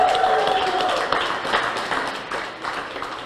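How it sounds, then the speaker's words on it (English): Audience claps at an outdoor ribbon cutting ceremony for a mixed-income housing project, with scattered, uneven applause that gradually thins out over a few seconds. "That statement right there deserves a round of applause."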